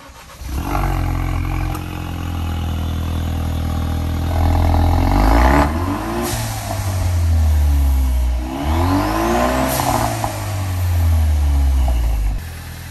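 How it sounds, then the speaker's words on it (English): A Ford Focus RS with an MBRP exhaust cranks and starts, then idles with a deep rumble between several loud revs that rise and fall in pitch, close and powerful. "first we're gonna start it and give it some quick revs so we can hear it before"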